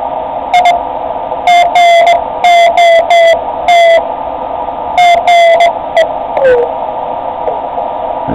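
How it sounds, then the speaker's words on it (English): Morse code CW tones from a radio receiver decoded by a Cumbria Designs MicroCode kit: a steady, fairly loud tone keyed on and off in short dots and longer dashes over a constant background hiss, with no talking. "Morse code that he's saying, it sounds kind of sick."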